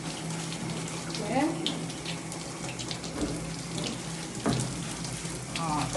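A sink tap runs steadily during a handwashing demonstration, a close, continuous gush of water heard under people talking.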